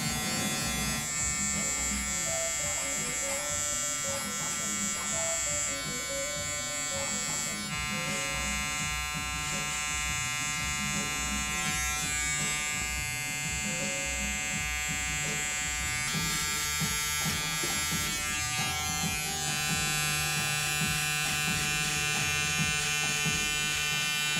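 An electric hair trimmer buzzes steadily at a barbershop while lining up the back of the hair and the beard edge, a close, continuous droning hum with brief changes in pitch as it moves.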